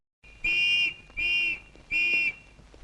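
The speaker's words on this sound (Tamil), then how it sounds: "நீ யாரு அங்க வந்து விசில் ஊதிக்கிட்டு இருக்க?" A whistle is blown three times at a police station in a Tamil comedy film scene, each blast a shrill, loud, steady note of about half a second with short gaps between.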